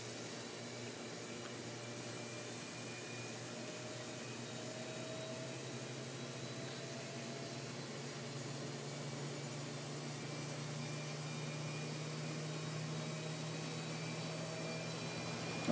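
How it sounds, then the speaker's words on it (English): A household washing machine and dryer winding up, giving a steady, broadband whirring hum with a low drone, fairly faint and unchanging throughout with no voices. "I'm sorry about the winding up of the washing machine and dryer"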